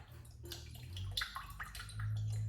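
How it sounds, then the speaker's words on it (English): Water pours from a freshly opened young coconut in a steady, close gurgling stream with small splashes that swell louder toward the end. "And see, the water just comes right out."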